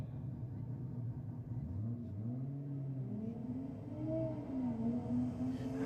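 A Holden VL Commodore and a Ford Falcon drag racing at Sydney Dragway, engines rumbling and revving upward in pitch through quick gear changes, rising steadily and somewhat distant.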